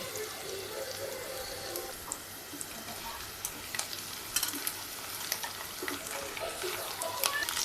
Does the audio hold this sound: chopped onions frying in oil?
yes